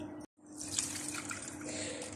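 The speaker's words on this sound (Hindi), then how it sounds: "थोड़ा सा मैं इसके अंदर पानी ऐड करूँगी" Water is poured into a watermelon drink made with salt, lemon juice and mint leaves, giving a soft, steady trickle and splash close by. A short silent gap comes right at the start, and no one speaks.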